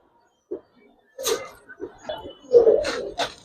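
Female pigeons of a high-flyer Giribaz breed coo softly in short separate bursts, close and fairly quiet, with near-silent gaps between the calls.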